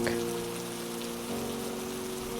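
Steady rain falls outside a doorway in misty weather, a continuous soft hiss with a faint low hum running beneath, no voices.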